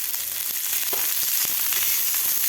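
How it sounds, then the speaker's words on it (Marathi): Thinly sliced onion frying in a little oil until golden for a drumstick and potato curry, giving an even, close sizzle with faint crackles and no talking. "कांदा सुद्धा आपल्याला गोल्डन कलर होईपर्यंत आपल्याला भाजून घ्यायचा आहे."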